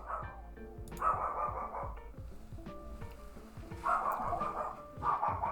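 A dog barks indoors in a run of repeated sharp barks, with louder bursts near the start, middle and end, clearly audible and fairly close.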